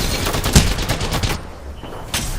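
Bursts of rapid automatic gunfire in a video game, loud and close, one long volley with a heavy shot near the start, then a brief lull before another burst.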